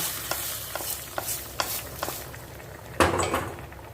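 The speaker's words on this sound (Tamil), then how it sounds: "இப்போ இதுக்கு நெய் விட்டு ஒரு தாளிப்பு கொடுத்துக்கலாம் பார்த்தீங்கன்னா கடுகு சீரகம் பச்சை மிளகா தாளிச்சாச்சு" Mustard seeds, cumin and green chilli sizzle in hot ghee for a tempering, with a spoon clinking against the pan at a regular pace and a sharper, louder splutter near the end.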